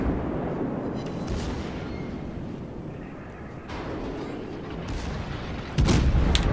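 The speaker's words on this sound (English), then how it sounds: "That battleship's now beginning to fire at her" Battleship gunfire in World of Warships booms through a constant roar of engine and sea noise, with a few distant heavy shots and a sharp loud blast near the end.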